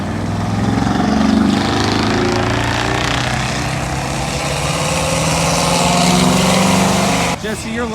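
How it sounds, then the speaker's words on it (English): Loud, steady roar of a muscle car doing a burnout as it leaves a car show, sustained engine and tire noise across the whole stretch, briefly dipping near the end with a sharp change. "Jesse, fat burnout."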